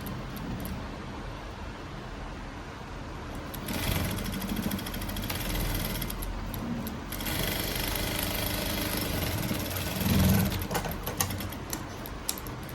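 A sewing machine stitching a blouse hums and rattles in steady runs, stopping and restarting, close by with a faint background drone and no talk.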